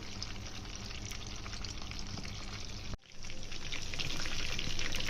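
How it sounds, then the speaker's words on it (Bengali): Chicken pieces fry on low heat with a dense, continuous crackling sizzle that drops out for a moment and then resumes a little louder; no one talks. "মাংসের পিসগুলো আমরা এখন কম জালে ভেজে নেব।"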